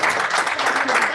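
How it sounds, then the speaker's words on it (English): A classroom group claps in a brief, dense burst of steady applause lasting just over a second, loud and close with no clear pauses. "Clap after every class."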